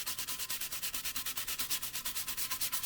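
An engraved tumbler is scrubbed briskly with rapid, even back-and-forth rubbing strokes, close and steady, with no voices.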